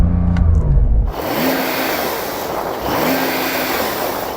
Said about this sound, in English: So I'm going to rev up this 911 Turbo S.